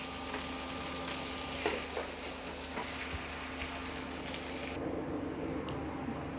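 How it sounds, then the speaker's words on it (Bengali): Onions and carrots stir-fry in a pan with a continuous crackling sizzle, punctuated by a few sharp scrapes and knocks of stirring; the hiss drops away noticeably near the end. "খুব ভালো করে এগুলোকে নেড়ে নেড়ে ভাজবো। পেঁয়াজ ব্রাউন হবে, গাজরগুলো নরম হয়ে যাবে।"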